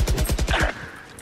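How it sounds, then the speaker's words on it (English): Rapid automatic gunfire in a competitive shooter video game, about seven quick, loud, evenly spaced shots in a burst that stops abruptly, followed by a brief ringing tail. "he shot me through the box"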